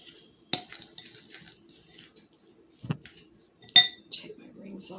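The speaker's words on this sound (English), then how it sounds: "I'm going to slowly start mixing this together until it forms a ball" Clinks and scrapes of a utensil against a bowl while homemade noodle dough of flour is mixed, sparse irregular knocks and clatters, close and fairly quiet.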